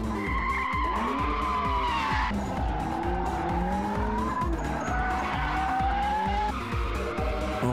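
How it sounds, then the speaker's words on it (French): A Volvo car drifting in a tuning and motorsport elimination event in Sweden, its tires squealing almost continuously with wavering pitch over steady engine roar, loud and close. "après avoir fait d'excellentes glissades, il fait une erreur et sa voiture part en tête à queue"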